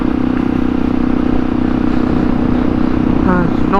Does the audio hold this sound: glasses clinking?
no